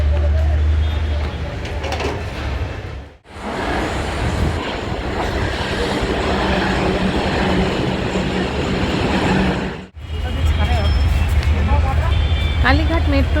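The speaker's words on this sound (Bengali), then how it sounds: "এখান থেকে এই যে শ্যামবাজার মেট্রো স্টপেজ থেকে ধরবো মেট্রো" Kolkata metro train ride from Shyambazar, a loud continuous rumble of the moving carriage with two sharp drops as the car passes through, and steady rolling noise throughout.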